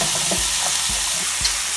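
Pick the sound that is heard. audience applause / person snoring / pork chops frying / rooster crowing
pork chops frying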